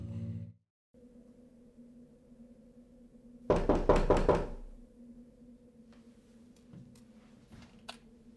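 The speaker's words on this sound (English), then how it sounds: "we just heard a knock at our door" Rapid, heavy knocks on a door in a horror film come as a loud burst of about five close blows over a low, quiet background hum, with faint scattered taps afterward.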